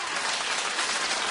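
Dense studio audience applause on a daytime talk show, a steady wash of many hands clapping loudly throughout with no pauses.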